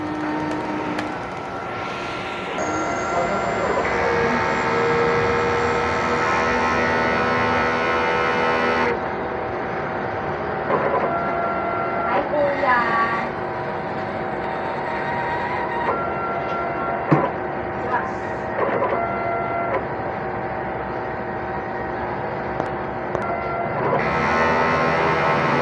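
An XP600 printer machine runs a head-clean cycle, giving a steady mechanical whir and hum that shifts in tone partway through, with faint clicks, close and without talk.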